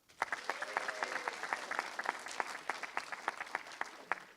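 Conference audience at code.talks 2018 clapping together, a dense steady round of applause that loosens into separate distinct claps near the end.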